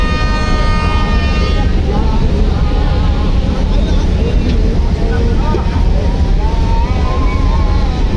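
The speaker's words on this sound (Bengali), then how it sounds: "কুয়াকাটা 2 লঞ্চটি যাচ্ছে" A passenger launch ferry passes close on a river among many other launches racing after a religious gathering, its steady loud engine drone and horn tones filling the scene while voices talk over it.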